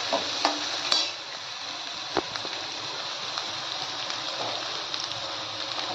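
Cumin, mustard seeds, chilli and onion tempering in hot oil in a kadhai, a continuous close sizzle with a few sharp spoon clicks and stirring scrapes, steady and moderate in level.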